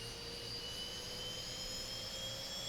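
The jet engine of a Boeing 737-800 spools up in the X-Plane 11 flight simulator, a steady broadband roar with high whining tones that rise slowly in pitch, constant and even throughout, with no talking.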